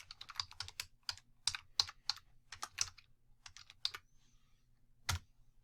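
Close, quiet keystrokes on a computer keyboard as a folder name is typed, irregular bursts of crisp clicks over about five seconds with short pauses and a final sharp key press.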